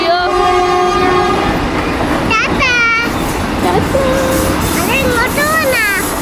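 An orange Vande Bharat train rumbles past close by with a loud horn blast at the start, steady rolling rail noise throughout, and voices shouting over it.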